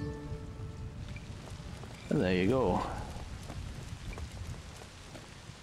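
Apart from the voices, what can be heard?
rain in a video game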